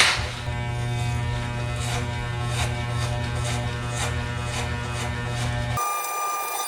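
Electric hair clippers fitted with a number 6 guard buzz steadily while cutting hair at the corners of the head, a close, loud hum with rhythmic brushing pulses, then the tone shifts briefly near the end.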